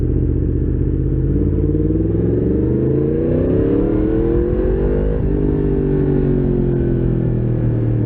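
Yamaha MT-10SP motorcycle engine idling and rumbling at low RPM, loud and close, with a steady deep throb that rises and falls slightly in pitch, alone without talk.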